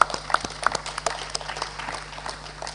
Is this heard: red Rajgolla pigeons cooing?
no